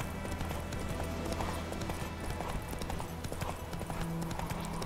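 Horse hooves clip-clopping in The Witcher 3: Wild Hunt, a steady rhythmic trot over a dense, continuous game soundscape with an occasional faint whinny, fairly loud and present throughout.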